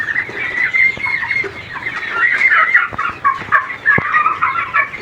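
Goliath breed chickens, large birds about two and a half months old on a farm, cluck and call continuously in a dense flock chorus, fairly loud and close, with no talk over them.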